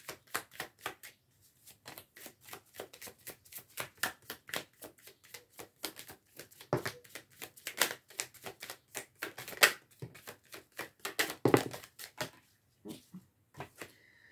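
Tarot cards are shuffled and drawn for a reading, giving a steady run of crisp riffling flicks and slaps close by, with no talking.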